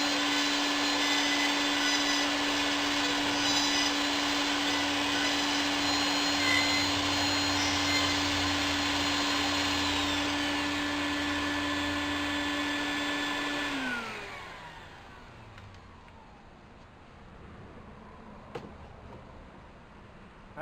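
A Festool Domino joiner runs with dust extraction attached, holding a loud, steady high whine and vacuum roar before winding down as the motor stops, followed by quiet room tone and a small click.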